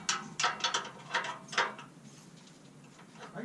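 A ratcheting wrench gives a quick series of close, crisp clicks in uneven bursts while tightening exhaust parts on a black truck, then fades to quiet background.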